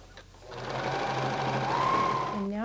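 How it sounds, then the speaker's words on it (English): A sewing machine runs steadily to sew a fabric leg cuff shut, a continuous close whirring with a faint voice underneath. "So go ahead and sew that shut."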